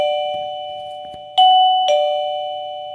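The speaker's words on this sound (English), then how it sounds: "the initial chime." A PLZ wireless doorbell chime unit plays its initial power-on chime when plugged in: clear electronic ding tones, with two distinct struck notes ringing out and decaying in a quiet room.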